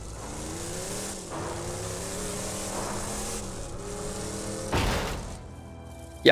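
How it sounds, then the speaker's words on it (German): A car in Borderlands 2 drives with a steady, droning engine that shifts in pitch, then comes a whooshing burst and a sharp thump at the end. "Jetzt fährt sie das Auto."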